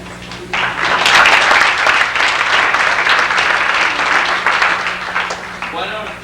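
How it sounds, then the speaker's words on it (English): Audience at a sports banquet breaking into loud, dense applause from many hands, sustained evenly and close for several seconds with a faint voice near the end. "Why don't we hold our applause till they all come up"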